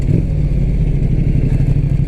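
Engine of a 2016 Ducati X Diavel S motorcycle in its subdued 100-horsepower urban throttle mode, a loud steady low rumble pulling uphill with close, continuous exhaust drone and no talk.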